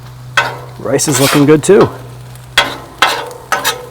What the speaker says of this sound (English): Chicken thighs are cooking up real nice in the wok. Super hot. Love the sizzle.